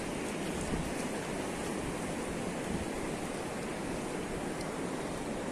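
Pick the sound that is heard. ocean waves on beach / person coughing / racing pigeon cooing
ocean waves on beach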